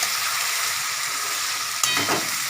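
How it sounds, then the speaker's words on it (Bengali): Mixed vegetables fry in a pan for a home-style vegetable rice dish, a steady loud sizzle throughout, broken by one stir clatter toward the end. "ভাজা ভাজা হয়নি একটু সময় লাগবে একটু ভাজা ভাজা হয়ে যাক"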